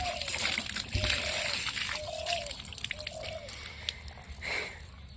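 Water splashes and trickles over cut green jackfruit during washing, a steady soft running sound with small sloshes, fairly faint, while a voice talks over it.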